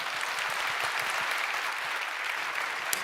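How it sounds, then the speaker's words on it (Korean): A church congregation applauds three newly baptized members during a Sunday service, a steady, even wash of many hands clapping throughout, moderately distant in a large room. "인사하실 때 박수로 축복해 주시기 바랍니다"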